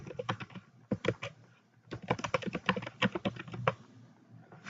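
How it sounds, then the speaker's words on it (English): Rapid, close clicking of a computer keyboard in irregular bursts with short pauses, crisp and fairly loud, with no talking. "So we can type in that they are overlaid."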